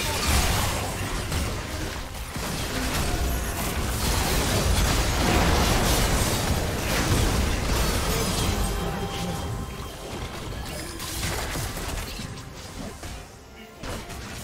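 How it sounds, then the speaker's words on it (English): Turret destruction in a League of Legends match rumbles as a loud, sustained explosion and crashing debris, with a broad roar lasting several seconds amid game effects, and a voice briefly heard in the mix. "Red team's turret has been destroyed."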